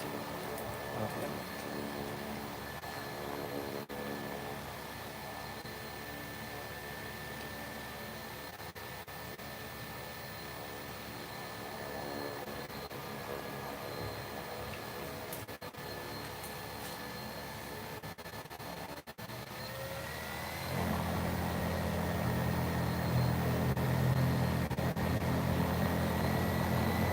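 Small propeller spinning steadily on a thrust bench test rig at around 2,150 RPM, a continuous whirring hum with a steady tone that grows louder and heavier partway through as the speed rises.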